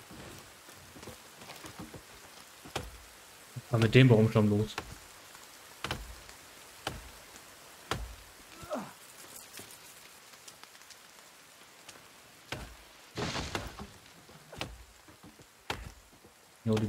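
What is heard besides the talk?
rain in the video game The Forest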